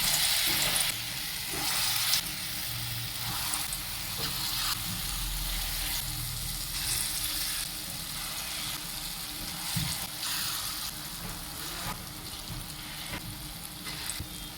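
Lentil and rice batter fritters frying in hot oil over a low flame, a steady dense sizzle running throughout at close range with faint crackles, no one speaking.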